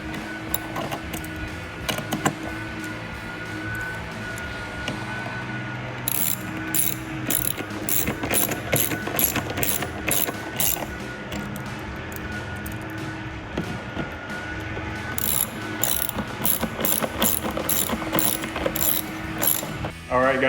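A ratchet clicks in repeated bursts of quick pawl ticks while tightening tail light fasteners on a 2018-2020 Ford F-150, close and fairly quiet, with brief pauses between runs and no talk.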